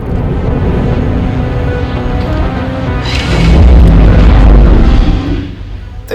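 A German battleship Bismarck's main guns fire a salvo in World of Warships, a deep, heavy boom swelling loud and rolling for a couple of seconds over a constant low rumble of engine and sea.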